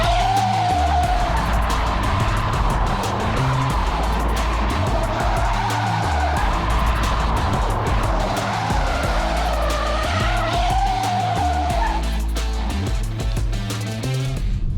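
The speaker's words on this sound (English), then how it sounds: "And what does a rear wheel drive EV do? Well, a few drifts coming up." A 2023 Hyundai Ioniq 5, a rear-wheel-drive electric car, drifts with loud, continuous tire squeal and skidding that wavers in pitch for the whole stretch, close and dominant with no voices.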